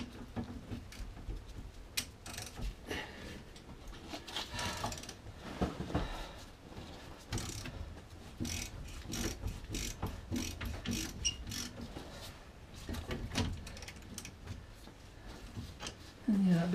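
A ratchet works bolts loose on a 2004 VW Polo, with rapid clicking pawl bursts in uneven runs over about seventeen seconds, close up and moderately quiet amid workshop shuffling and handling.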